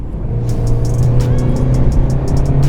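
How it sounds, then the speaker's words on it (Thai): A 2021 Mercedes-Benz E220d AMG Sport facelift diesel sedan accelerating hard from 80 km/h, heard from inside as a steady loud engine drone with road and wind noise and a string of regular ticking clicks above it, no talking. "เดี๋ยวเราจะแคนเซิลเพื่อดูกันว่าอัตราเร่งจะเป็นยังไงใน 3 2 1ึ่ง ไปครับ"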